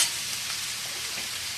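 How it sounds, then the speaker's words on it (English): Vegetables tossed into a liberally oiled pan sizzle with a steady, bright, close hiss that continues without a break. "Hear that sizzle?"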